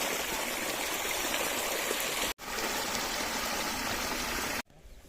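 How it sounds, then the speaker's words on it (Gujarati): Water flows like a stream at a farm, a loud, steady rushing wash broken by two abrupt cuts, quieter after the second. "ઝરણા જેવું લાગે ઝરણા જેવું"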